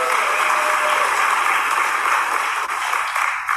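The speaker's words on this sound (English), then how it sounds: "getting an applause for that" Audience applause at an Alcoholics Anonymous meeting of the Diablo Group in Danville, California, a steady, full burst of clapping from many people that holds evenly throughout.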